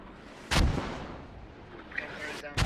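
Mortar artillery fire in a military video game: one heavy nearby boom followed by a rumbling tail, with a second shot starting at the very end, under faint radio chatter.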